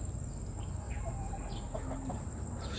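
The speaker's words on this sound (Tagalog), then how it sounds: "And may mga manok dito sa likod." Chickens cluck in short, scattered calls behind a house with a garden, moderately distant over a steady buzz of insects.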